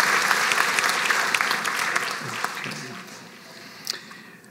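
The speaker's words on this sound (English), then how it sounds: "Once again, a round of applause for the graduate from UC Post Basic." Applause for a graduate at a college graduation ceremony, a full crowd clapping steadily at first, then thinning and softening toward the end with a few lingering claps.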